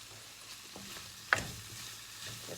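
Fresh broccoli and peppers stir-frying for prawn fried rice, a quiet continuous sizzle broken by one sharp clink of a utensil against the pan midway, with no talk.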